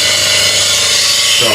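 A woodturning tool is pressed against a spinning CBN grinding wheel, a loud, steady hissing grind over a motor hum that shifts pitch briefly near the end.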